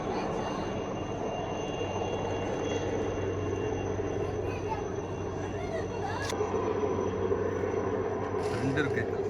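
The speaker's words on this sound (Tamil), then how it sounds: "ரெண்டு ஹெலிகாப்டர் போகுது." Two helicopters pass over a flooded Chennai in December 2023, making a steady, continuous engine and rotor drone that stays at an even, moderate distance throughout.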